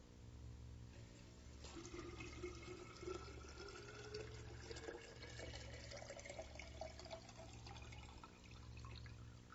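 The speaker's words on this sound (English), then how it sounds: "I'm going to pour the water slowly into the vase." Water pours slowly into a glass vase holding a submerged rose, a soft continuous trickle and gurgle with a rising filling tone, quiet and close, over a low background hum.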